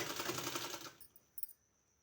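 A sewing machine stitches a strip onto a sleeve in one fast, rattling run of rapid needle strokes that stops abruptly, followed by a few soft clicks and near silence.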